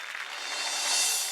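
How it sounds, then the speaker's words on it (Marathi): A studio audience of women bursts into loud, dense applause that swells steadily and stays strong for the whole short stretch, with no talking over it. "एकदा जोरदार टाळ्या होऊन जाऊ देत."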